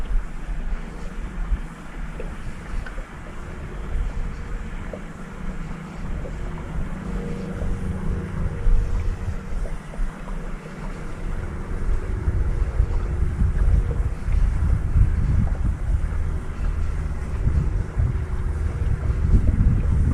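Light, shifting wind buffets the microphone beside open water during fly fishing, a steady low rumble that swells and grows heavier toward the end, with no voices.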